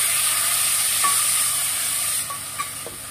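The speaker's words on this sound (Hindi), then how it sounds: "अब प्याज में हम कश्मीरी लाल मिर्ची को ऐड कर देंगे।" Kashmiri red chilli hits hot oil with frying onions, giving a steady loud sizzle and hiss throughout, with a few faint stirring clinks near the end.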